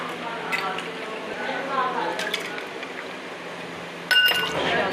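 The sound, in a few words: grape juice being served into a glass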